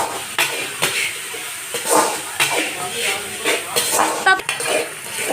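Fish curry being stirred in a metal pot, with a spoon scraping and clinking against the sides in repeated, irregular strokes, loud and close.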